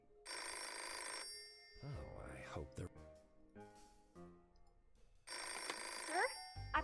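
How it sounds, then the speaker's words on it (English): Telephone ringing in the video game Nine Noir Lives: two loud bursts of a bright, rattling bell ring, one at the start and one near the end, with someone speaking in the gap between them. "I better answer the phone."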